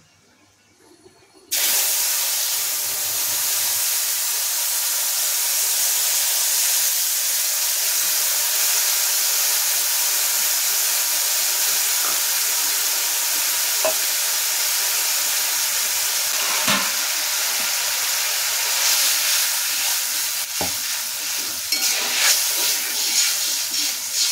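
Tamarind poured into a hot pan in a home kitchen, a sudden loud burst into a continuous close steam-like hiss and sizzle that holds steady for about twenty seconds.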